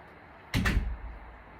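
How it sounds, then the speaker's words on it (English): An indoor door is pushed shut with a single solid thump and a brief rattle, close by, followed by quiet. "Let me close the door."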